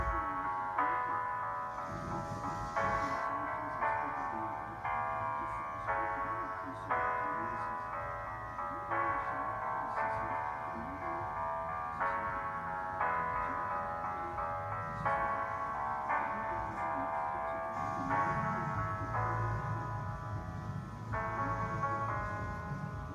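Solo piano plays part 2 of a song, steady repeating chords in an even rhythm, close and moderately loud throughout with no voices.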